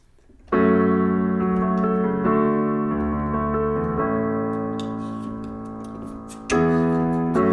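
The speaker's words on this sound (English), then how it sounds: "the majority of the song is just a 4-chord loop that sounds like this." Sustained piano chords cycle through a short repeating four-chord progression from a song, each chord ringing out fully before the next, played alone and fairly loud.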